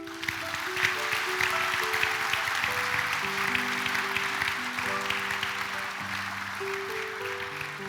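An audience at a diploma ceremony in Novo mesto, Slovenia, applauds continuously, a dense wash of clapping over music playing underneath.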